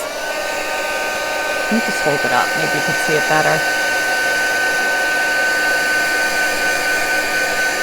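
A heat embossing tool gives a steady, loud whirring blast of hot air over stamped images throughout, with a voice speaking briefly over the noise partway through.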